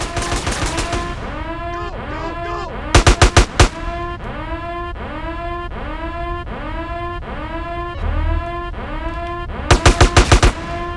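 A very powerful weapon fires in GTA San Andreas, two sharp rapid bursts of loud gunfire about seven seconds apart, separated by a repeating, wavering electronic game tone, with no speech.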